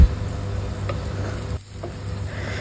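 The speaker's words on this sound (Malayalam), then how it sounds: "ഇനി ഹൈ ഫ്ലെയിമിൽ പെട്ടെന്നൊന്ന് നമുക്ക് ഇതേപോലെ സോട്ട് ചെയ്തിട്ടെടുക്കാം" Vegetables sauté over a high flame, producing a constant loud sizzle with stirring scrapes that briefly dip partway through, no talking.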